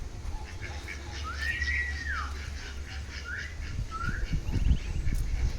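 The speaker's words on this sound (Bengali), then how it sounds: "আমার চীনা হাঁসের বাচ্চা।" Young Chinese duck ducklings give a few thin, rising peeping calls a short distance off, scattered over a steady low outdoor hum.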